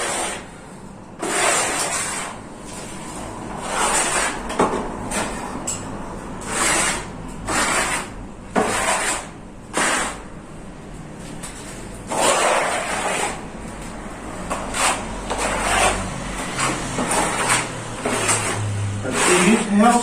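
A trowel drags plaster finishing putty across a wall in a steady run of broad scraping and rubbing strokes, close and fairly loud, one after another.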